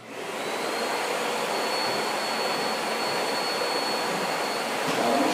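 Shop vacuum hooked to a floor sanding setup switching on, rising quickly into a loud steady whooshing roar with a faint high whine, continuous and close.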